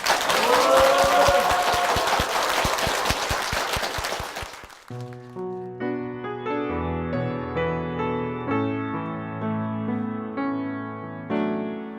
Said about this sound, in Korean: 아름다운 모녀에게 축복의 박수 부탁드립니다.